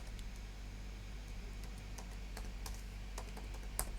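Light tapping on a computer keyboard, a quick irregular run of soft key presses over a steady low hum, close and quiet, no voices.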